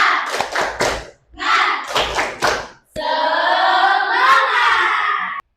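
A classroom of students claps a quick rhythmic pattern in short bursts, pausing between groups of claps, then the class shouts a drawn-out unison chant together.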